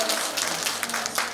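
An audience at a rural women's farming new-year training session claps briefly, giving a short burst of moderately soft, crowded clapping in an indoor hall.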